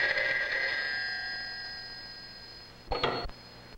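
Old telephone bell ringing in a 1951 setting, a sustained metallic ring that slowly fades, then a brief clattering burst of a second ring near the end, clear and close with no voices.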